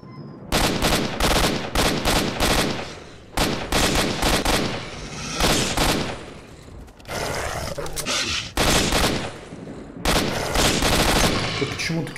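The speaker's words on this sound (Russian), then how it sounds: "Пушка-то классная, скорострельная, но очень много патронов выстреливает порой впустую." Bursts of rapid automatic gunfire from a fast-firing weapon in the STALKER shooter game, loud and close, coming in long sustained volleys with brief pauses between them and a rougher, noisier stretch in the middle.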